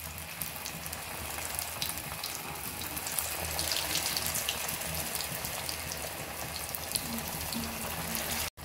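Banana bajji fritters sizzle in hot oil over a lowered flame, a steady dense bubbling hiss that runs evenly throughout, close and fairly loud, with no talking.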